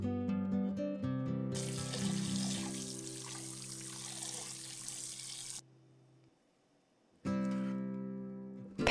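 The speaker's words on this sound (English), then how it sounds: "Rinse the pork lightly in cold water after soaking." Cold tap water runs steadily into a sink while pork is rinsed for Korean boiled pork, a broad continuous splash with tonal ringing, then a brief silence before the flow resumes loudly.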